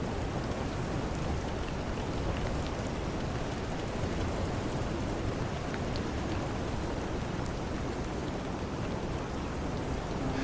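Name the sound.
rain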